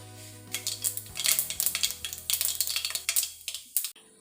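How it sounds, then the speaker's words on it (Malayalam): Mustard seeds popping in hot coconut oil in a pan, a rapid irregular run of sharp crackles and spits, close and fairly loud, with a low hum underneath that drops out partway. "ഇവിടെ കടുക് പൊട്ടി വന്നു."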